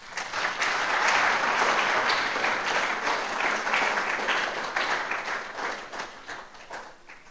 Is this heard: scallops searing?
no